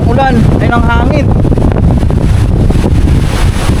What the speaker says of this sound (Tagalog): Grabe lang ang ulan. Ay, ng hangin.